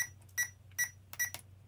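An electronic speed controller in a Tamiya Egress RC car with a Flysky NB4 radio gives short, faint, evenly spaced beeps in pairs and clusters during calibration, heard alone against a low hum.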